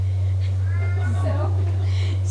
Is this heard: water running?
no